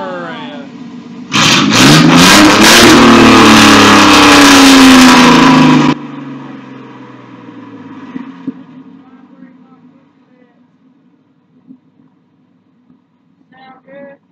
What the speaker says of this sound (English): Oh yeah, now give her a rev.